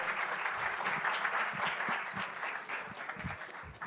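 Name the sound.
audience applause for the speaker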